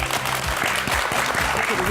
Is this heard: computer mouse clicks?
no